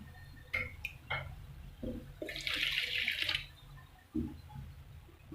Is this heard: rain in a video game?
no